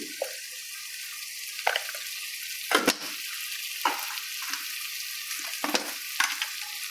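Chicken masala, chilli powder and turmeric stirred as they fry for chicken biryani, a soft steady sizzle punctuated by about six sharp scraping stirs spaced a second or so apart, no voices.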